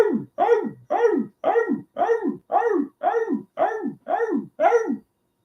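A big neighborhood dog barks ten times in a steady, evenly spaced series, each bark loud, deep and close, with no voices around it.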